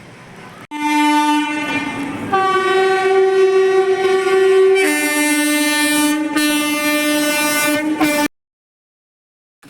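A train on the way to Puri passes close by, sounding a long, loud horn with shifting tones over steady rumbling for about eight seconds, then cutting off abruptly.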